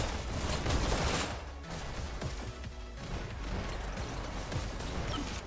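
SMG gunfire in the competitive shooter Payload League, rapid bursts mixed with crashes and mechanical clatter, loudest at the start and then settling into a busier, lower-level battle din.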